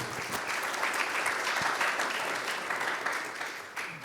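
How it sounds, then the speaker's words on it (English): An audience at a breakfast briefing applauds the panel speakers, with dense, sustained clapping from a sizable crowd filling the room throughout. "So a round of applause for them for taking the time to share their knowledge and experience on stage"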